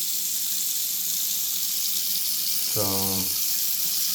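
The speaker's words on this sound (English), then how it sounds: "Just wanted to show you the water doesn't go down as fast as it used to." Water runs and gurgles as it drains slowly from a clogged bathroom sink, building to a short louder burst of bubbling near the end over steady background noise.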